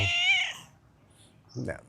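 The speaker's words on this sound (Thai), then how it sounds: "สิ่งที่มันจะมารบกวนเราเช่นแมวตัวนี้นะครับ มารบกวนการฝึกสมาธิเรา" A house cat meows once, close and clear, with a short second call after a pause in a quiet room.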